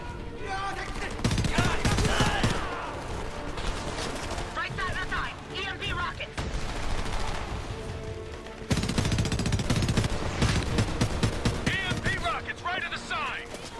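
Heavy gunfire in the video game Homefront bursts out in dense, loud volleys of shots and automatic fire, while voices shout over the battle.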